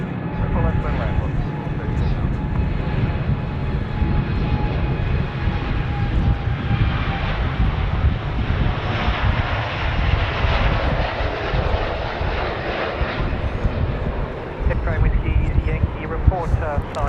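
LATAM Boeing 787 airliner taking off at Sydney Airport, a loud sustained jet roar with rumbling engine noise and wind buffeting, a voice talking intermittently over it.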